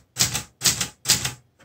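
A Clover Top Star 10S two-set Hangul manual typewriter strikes keys in three crisp, evenly spaced clacks, each with a short metallic ring, followed by a faint fourth tap, close and alone.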